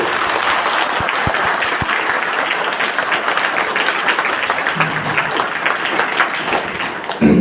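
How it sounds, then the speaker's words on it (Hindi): Loud applause welcomes a guest at a students' summer camp in Balrampur, Chhattisgarh, a dense roar of clapping from a large crowd of children, sustained at full strength with a few sharp knocks before it cuts off. "मैं चाहूंगा कि इनके स्वागत में एक जोरदार ताली हो"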